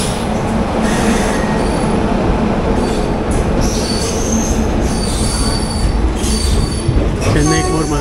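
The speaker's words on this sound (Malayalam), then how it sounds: "ചെന്നൈ മധുരൈ തേജസ് എക്സ്പ്രസ്." The Chennai–Madurai Tejas Express rolls past at close range, loud and continuous, with wheels squealing in high whines and rhythmic rail clatter sustained throughout.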